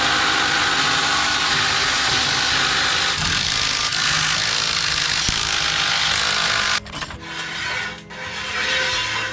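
Ratchet wrench clicking steadily as wheel lug nuts are run down on a Range Rover Evoque in a shop, close and fairly loud, with a brief gap near the end before the clicking resumes.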